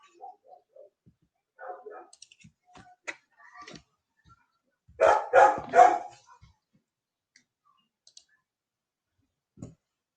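A dog gives a short run of three or four loud, quick barks nearby, with scattered clicks and faint sounds spread thinly before and after.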